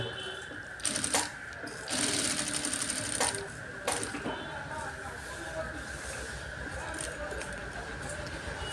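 An electric sewing machine stitches a panel strip onto a jubba garment, running in steady bursts with clicking mechanism noise under a constant hum, near and moderately loud.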